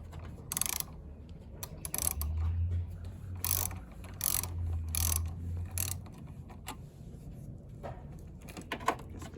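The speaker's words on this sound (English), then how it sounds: "I'm going to disconnect the battery, starting with the negative terminal first. So this is a 10mm socket." A 10mm socket on a ratchet works loose the negative battery terminal, producing several bursts of sharp metallic clicking, close and fairly quiet, separated by pauses and faint handling noise, with no talking.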